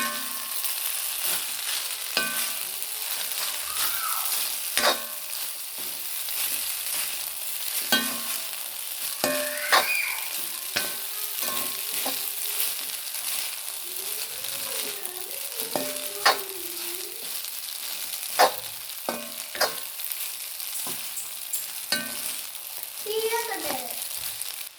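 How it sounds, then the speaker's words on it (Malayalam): Vermicelli (semiya) for upma being stirred and mixed in a hot pan, with a continuous light sizzle and repeated scraping taps of a spoon, while faint high-pitched voices sound in the background. "നമ്മൾ സേമിയ ഇട്ട് കൊടുത്തിട്ട് നന്നായി മിക്സ് ചെയ്യാം എല്ലാം കൂടെ"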